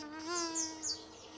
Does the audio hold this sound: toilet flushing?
no